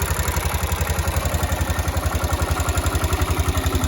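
A big 400 four-wheel-drive engine idles steadily with a quick, even exhaust tapping pulsing throughout, close up and fairly quiet, with no voices.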